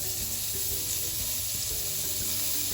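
Frozen meat for a homemade doner kebab shawarma goes into a hot pan over medium gas, giving a steady, close, loud hiss and spatter of sizzling fat throughout, with no talking.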